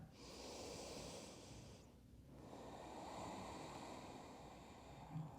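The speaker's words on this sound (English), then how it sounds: "1 or 2 more rounds of breath." Slow, deep breaths during a yoga flow, a long airy exhale, a brief pause, then another drawn-out breath, close and quiet with no talking.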